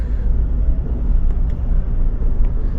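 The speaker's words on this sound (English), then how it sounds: "rush hour traffic. It's 20 miles an hour." Dense, loud highway traffic rumble heard from inside a vehicle crawling at about 20 miles an hour in rush hour near Nashville, a continuous deep road roar with no break.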